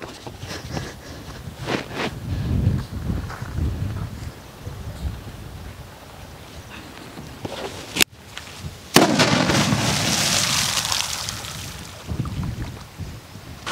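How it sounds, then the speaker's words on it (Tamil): An Urundu vedi rolling firecracker tossed into water in a village fizzes and rumbles along, then goes off with a sharp bang followed by a long roaring hiss under wind noise. "தண்ணிக்குள்ள தூக்கி போட்டானே அப்படியே சும்மா சுரு சுரு சுருன்னு உருண்டுகிட்டு போய் டொம்முன்னு வெடிச்சிச்சு"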